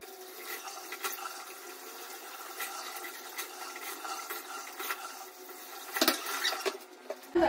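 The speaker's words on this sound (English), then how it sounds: "I'm gonna wash it off with some water" White cheese (mshellele) is rinsed under running water in a kitchen, a steady faint stream with soft splashing and patter that swells near the end, heard alone without talk.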